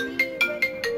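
A phone ringtone repeats four short bright tonal bursts in a steady rhythm over a sustained melodic tone, loud and close, with no talk over it.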